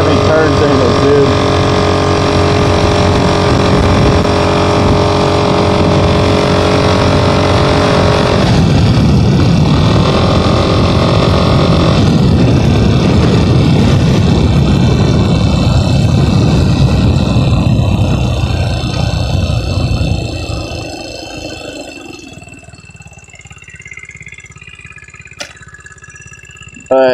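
A GY6 moped scooter with a broken exhaust runs loud and raspy on a group ride, its harsh engine drone steady for most of the stretch before fading off to quieter surroundings near the end.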